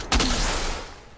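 A single loud gunshot in a video game bursts out sharply and then leaves a long rumbling echo that fades over about a second.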